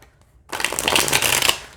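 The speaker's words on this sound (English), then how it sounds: "Shuffles just great." A new tarot card deck is riffle-shuffled up close, a dense, crisp fluttering of cardstock lasting about a second after a quiet start.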